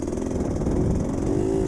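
A GPX TSE 250R motorcycle with a hydraulic clutch conversion revs steadily at low to mid rpm as the clutch is feathered, a continuous buzzy engine note with slight rises in pitch, close and alone.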